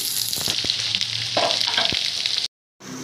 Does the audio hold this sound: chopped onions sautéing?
yes